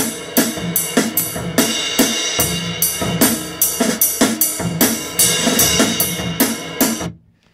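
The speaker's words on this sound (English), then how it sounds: "So I recorded a little drum kit, and it should sound something like this." Small acoustic drum kit of a cymbal, a gran cassa bass drum and a 10-inch snare, captured with a single microphone, playing a steady rhythmic groove of punchy hits and ringing cymbal wash that ends with a fading decay.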